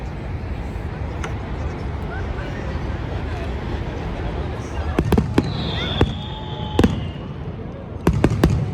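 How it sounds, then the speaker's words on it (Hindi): Fireworks at Niagara Falls pop and crackle in the distance over a steady rushing roar of water and crowd noise, with several sharp faint bangs and a rising whistle toward the end. "हम इधर बैठ के ना इंतज़ार करेंगे अभी फायर वर्क का"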